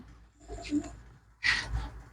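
A black-eyed pigeon coos twice in short soft bursts, a low throaty call followed after a pause by a louder one, heard close and alone.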